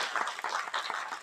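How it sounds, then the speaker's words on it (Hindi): Brief burst of audience applause at a university event honouring the vice chancellor, a fairly faint, uneven patter of many hands clapping in a hall, with no speech over it. "जोरदार तालियां आप उनके लिए बजाइए"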